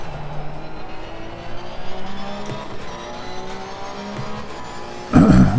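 A race car in Assetto Corsa Competizione brakes hard and shifts down two gears, engine pitch stepping and falling through the downshifts with a loud burst of sound at the end.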